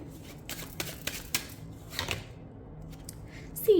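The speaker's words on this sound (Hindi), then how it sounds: "चलिए कुछ कार्ड्स और लेते हैं" A tarot deck shuffled and cards drawn during a reading, giving irregular papery riffles and flicks, close and moderately loud, with a brief faint sound near the end.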